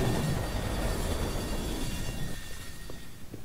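A train in the video game Estranged rumbles loudly at first, then fades into a lower roar with faint scattered clanks, and no voices.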